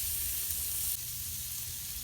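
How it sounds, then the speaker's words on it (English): Food sizzling and frying in a pan while dinner cooks at an off-grid cabin site, a steady close hiss throughout that drops slightly in level partway through, with no talking. "Oh yeah, everything's sizzling."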